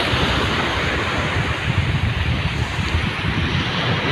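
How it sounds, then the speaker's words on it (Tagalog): Strong ocean waves surge loudly and continuously on a shore where sea shells and crabs are gathered, with heavy wind buffeting the microphone throughout and no voices. "Kasi malakas na yung alon."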